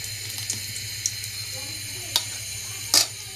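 Three eggs frying in a pan give a steady, soft sizzle, broken by a few sharp clinks and scrapes, the loudest near the end.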